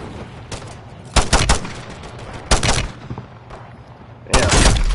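Bursts of automatic gunfire in Call of Duty Warzone: three or four loud, rapid volleys separated by brief pauses, with the final burst the heaviest and nearest.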